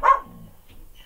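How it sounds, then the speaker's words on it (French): A guard dog on the far side of a property lets out one short, sharp bark that quickly fades, followed by near silence. "C'est mon chien de l'autre côté qui fait la garde après rien du tout."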